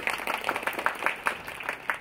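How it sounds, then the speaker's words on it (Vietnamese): Guests at an engagement ceremony clap in a steady, sharp round of applause, dense overlapping hand claps from a gathered crowd, moderately loud and continuing evenly without speech. "một tràng vỗ tay giòn giã của tất cả quý vị"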